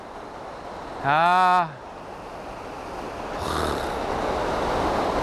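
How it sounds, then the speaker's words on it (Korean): Rushing canyon waterfall water sounds as a steady broadband roar that grows louder toward the end, while a man briefly exclaims over it. "내려갈수록 물소리가 점점 거세집니다"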